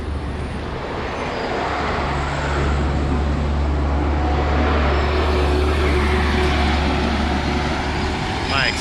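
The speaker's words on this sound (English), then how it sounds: "I'm not sure you guys gonna hear me with all those trucks going by." Trucks and other traffic roll past on a busy street near the Aruba cruise port, a loud, continuous low engine rumble filling the whole stretch with no pause.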